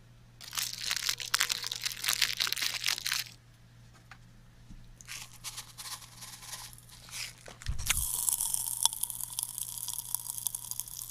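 Pop Rocks candy crackles and pops in fizzing bursts, dense tiny snaps that stop, resume, and swell again, close and fairly quiet, with no speech.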